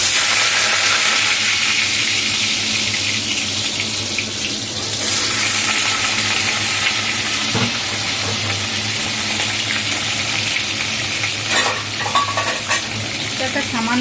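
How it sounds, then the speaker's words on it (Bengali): Potatoes lightly frying in oil, a dense continuous sizzle and hiss close up, with occasional stirring scrapes breaking through the steady crackle. "আর আমি একটুখানি আলু দেবো এর মধ্যে, ওই জন্য আলুটা একটু ভেজে নেবো হালকা করে"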